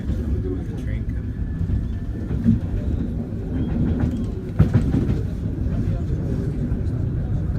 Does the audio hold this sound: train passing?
yes